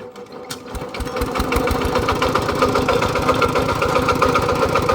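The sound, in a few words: vehicle engine started and running loudly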